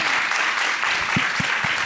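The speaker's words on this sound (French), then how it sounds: "Je pense qu'on peut les encourager, les applaudir bien fort" Audience applauds at a talk or stage event, a steady, full wash of clapping throughout, with a few louder low thumps near the end.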